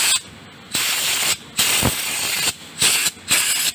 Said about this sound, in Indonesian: Kita cari area yang berdebu, kemudian kita semprotkan di sini.